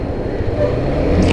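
Motorbike engine pulling steadily in third gear on the road, a continuous loud low drone with wind rumble and no break in the sound.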